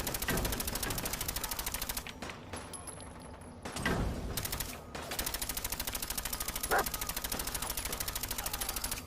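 Rapid automatic gunfire in combat in a heavily modded PS4 video game set in a downtown Boston area, bursts of fast shots that pause briefly and resume, under faint talk.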